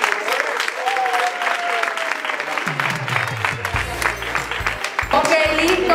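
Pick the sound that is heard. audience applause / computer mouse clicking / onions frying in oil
audience applause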